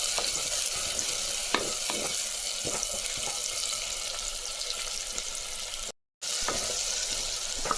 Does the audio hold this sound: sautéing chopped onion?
yes